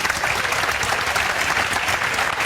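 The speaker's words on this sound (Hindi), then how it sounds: "इनके लिए जोरदार तालियां बजा दो" Steady, dense applause from an audience in a coaching centre, loud and continuous throughout, with a faint murmur of voices beneath.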